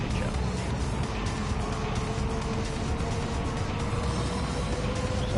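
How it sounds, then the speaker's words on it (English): A race car in a racing video game on cold tyres, not yet up to temperature, drives on the Tokyo circuit with a steady, dense engine roar and tyre noise throughout, close and loud. "You hear it squirming around because the tyres are not yet up to temperature."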